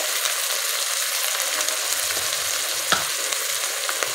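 For a dal tadka, onion, ginger-garlic paste and cumin fry in a pan with a steady, close sizzle and scattered crackles, and a soft stirring scrape comes near the end. No voices are heard.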